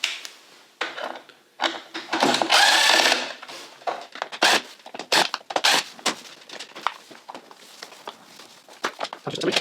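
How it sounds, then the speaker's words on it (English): Disassembly work on a Husqvarna Automower 310 robot mower while taking out its mowing motor: irregular clicks, clatters and scraping of tools and plastic parts, with one longer buzzing burst, close and uneven. "Now I'm going to remove the mowing motor from the Husqvarna."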